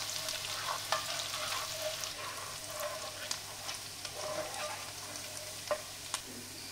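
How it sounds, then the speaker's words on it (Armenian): Onion fries gently in a pan over low heat with a continuous soft sizzle and crackle, broken by a few light scrapes of stirring. "մարմանդ կրակին տապակեք հանգիստ, որպեսզի թեթև վարդագույն լինի"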